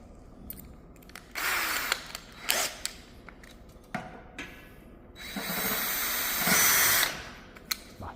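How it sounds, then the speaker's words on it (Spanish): A power drill boring holes in a fire door to fit a panic bar and door closer whirs in two bursts, a short one and then a longer steady run, with clicks and handling noises in between. "nos faltaría taladrar ese último."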